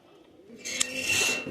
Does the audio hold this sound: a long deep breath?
no